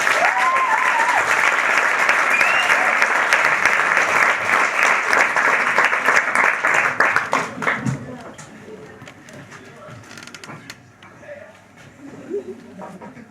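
Loud applause from a comedy audience just before a comedian comes on stage. A dense wall of clapping holds steady, then thins out and fades to scattered claps.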